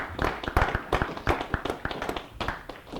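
Applause at a livestreamed tech meetup, with sharp, uneven claps from a small crowd, close and fairly loud, rising and thinning in irregular bursts.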